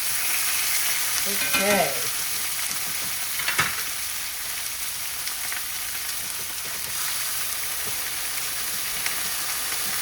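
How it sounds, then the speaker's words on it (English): Mediterranean chicken sears in a very hot pan, giving a steady loud sizzle and hiss throughout, with a couple of brief scraping stirs near the start and a short spoken word. "So we're getting that nice sear, that nice char on there."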